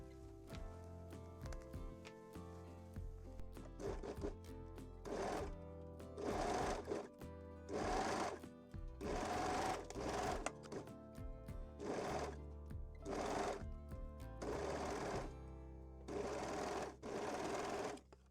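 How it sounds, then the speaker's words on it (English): A sewing machine stitches the center front seam of a lace bralette, running in about nine short bursts separated by brief pauses, close and clear with no talking. "Then pin and sew the center front seam right sides together."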